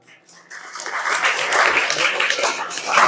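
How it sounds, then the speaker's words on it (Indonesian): Vocational high school students clap their hands at an assembly, starting from a brief quieter patch and swelling into a loud, sustained burst of mixed clapping and crowd noise that grows toward the end. "hari ini saya minta yang merasa Gen Z tepuk tangan dulu"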